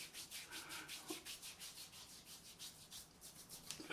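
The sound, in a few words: rubbing excess shaving soap lather into face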